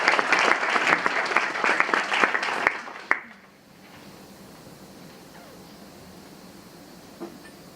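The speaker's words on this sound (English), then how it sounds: "perhaps just a final round of applause to thank everybody again" Round of applause from a forum audience, brisk and full for about three seconds, then a few last claps before it fades into quiet room tone.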